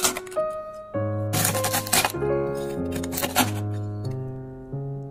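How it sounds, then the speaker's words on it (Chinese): A knife cuts through crisp fried sachima made from dumpling wrappers and topped with sesame, giving several short crunchy crackling bursts close up over a bed of gentle melodic background music. "来听一听这个酥脆的声音"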